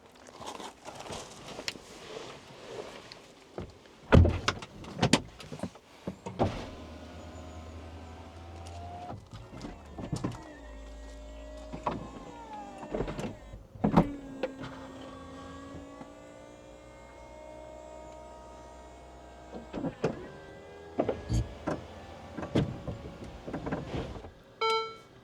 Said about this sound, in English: I'm just going to open the roof with the battery system of the cars